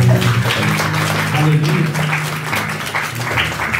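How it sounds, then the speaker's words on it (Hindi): A church congregation claps loudly and steadily throughout, a dense, continuous wash of applause, while a voice calls out over it. "खुदा के लिए ताली बजाओ ऐसे लोग।"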